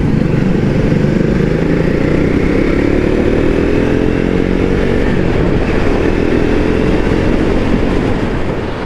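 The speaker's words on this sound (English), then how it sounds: "Another surprise that Triumph delivered is the sound of a Speed." Triumph Speed 400 motorcycle engine droning loudly and steadily while riding, with a harsh, continuous rumble and gradually shifting pitch as it pulls along.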